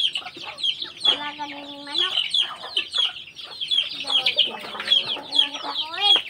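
A flock of native chickens clucks and squawks at feeding time, a busy, continuous chatter close to the listener with sharper calls rising out of it now and then.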